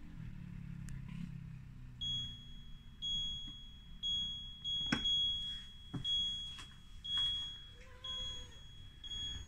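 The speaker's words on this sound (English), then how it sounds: "keep holding until you hear four beeps" A handful of short electronic beeps from an Osmio Zero water filter system sound at intervals over a low hum, with faint clicks and shuffling between them.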